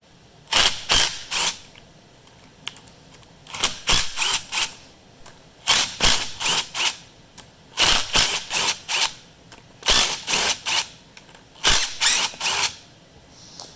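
A hand ratchet loosens the bolts on a transmission shift solenoid plate, making close, loud bursts of sharp rapid clicks in repeated groups with brief pauses between strokes.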